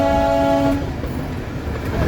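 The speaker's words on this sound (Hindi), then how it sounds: "ट्रेन दार्जिलिंग मेन सिटी को पार करके आगे बढ़ रही है।" Darjeeling toy train moving through the city, a sustained horn blast for the first second then a steady rumbling roll with faint clatter, loud and near, no talking.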